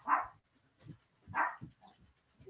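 A dog gives two sharp, close barks about a second apart, each followed by softer huffs and small yips, with no talking.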